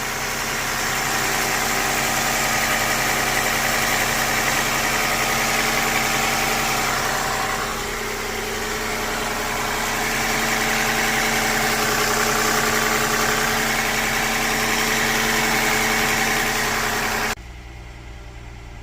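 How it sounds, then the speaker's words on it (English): A 2011 Toyota RAV4 V6 engine idles at about 1200 rpm with a steady, rumbling hum, close and loud, running evenly throughout before cutting to quieter background near the end. "It's idling about 1200"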